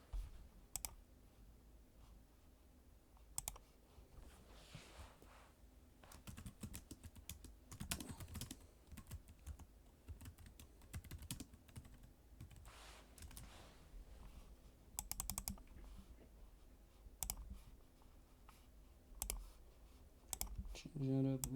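Computer mouse clicks and keyboard typing while editing pages, scattered taps and short bursts close by, with quiet stretches between.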